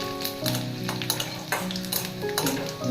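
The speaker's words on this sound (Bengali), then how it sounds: "রসুন দিয়ে দিলাম। এটাকে ভালো করে নেড়ে চেড়ে" Crushed garlic sizzles in a hot pan while a utensil stirs it, with a few clear scrapes and clacks over the constant frying hiss.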